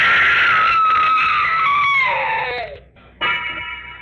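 A long, shrill scream from an old radio drama, loud and sustained, sliding downward in pitch before breaking off, followed by a brief gap and a second sharp cry.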